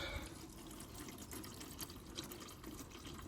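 Engine oil drains from the sump of a 2016 Mini Countryman 1.6 petrol into a pan, a faint continuous trickling pour with some background hiss.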